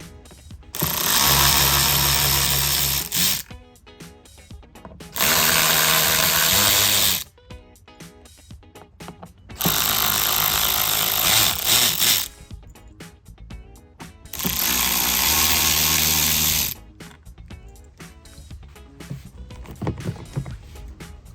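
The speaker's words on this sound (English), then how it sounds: "start removing the rest of the mesh with a multi-tool" An oscillating multi-tool cuts away the speaker mesh on a Harley-Davidson Street Glide or Road Glide fairing, running in four loud, sustained buzzing bursts of about two seconds each, with quieter pauses and handling noises between them.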